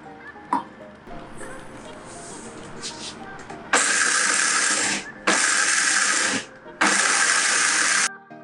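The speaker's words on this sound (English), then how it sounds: "Then we are going to grind all of our dry fruits." An electric mixer grinder whirs loudly as it grinds pistachios, cashews and almonds into a dry powder. It comes in three hard bursts of about a second and a half each, with short pauses between them, after quieter clattering and handling sounds.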